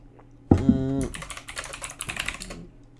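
Typing on a computer keyboard makes a busy run of quick clicks through the middle and end, following a brief burst of voiced sound at the start.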